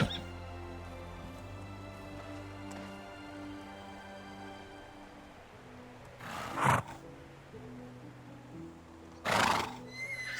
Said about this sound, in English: Silly horse, isn't it?